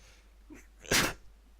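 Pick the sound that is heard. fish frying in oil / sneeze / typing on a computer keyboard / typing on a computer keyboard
sneeze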